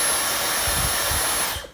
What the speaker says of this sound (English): But I filmed myself drying my hair today.